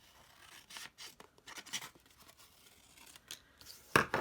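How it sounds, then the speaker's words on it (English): Scissors snipping through a small piece of card, several soft, quick cuts and paper rustles close by, ending with a sharper snip. "take the rest of this little card and cut another piece off"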